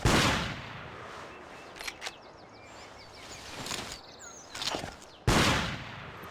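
Rifle test shots at a sighting booth in Cabela's Big Game Hunter 2005: several sharp, loud cracks spaced a few seconds apart, each with a short echoing tail, over quiet outdoor ambience with faint birds.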